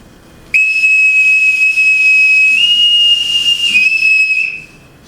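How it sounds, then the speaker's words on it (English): A boatswain's pipe sounds one long, shrill, steady whistle with a slight pitch rise partway through at a military change of command ceremony as a colonel and family are piped ashore, ringing loud and clear for about four seconds before trailing off. "Colonel Donahue and family will now be piped ashore for the last time"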